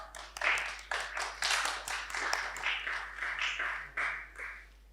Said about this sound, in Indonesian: mari kita tepuk ayo tangan maju